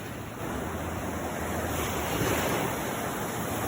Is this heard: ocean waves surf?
yes